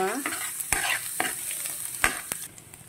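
Garlic hits hot coconut oil in a pan, crackling loudly and up close, with several sharp spatula strikes against the pan as it is stirred.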